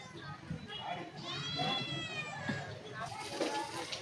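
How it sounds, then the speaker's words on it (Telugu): A cat meows insistently for food at a house, giving several drawn-out, wavering cries close by, with a person talking over them. "అదిగో ఇంకా అన్నం పెడతలేమని చెప్పేసి ఎట్లా అరుస్తుందో చూడండి పిల్లి"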